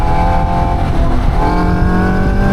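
A Caterham 340S engine revs hard on track, a loud, close, rising drone with sharp harmonic bands as the car accelerates through the gears, with no voices over it.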